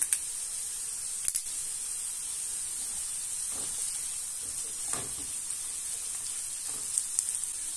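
Zucchini fry in a pan with bay leaves, a constant close sizzle and hiss broken by a few sharp utensil clicks and soft stirring scrapes.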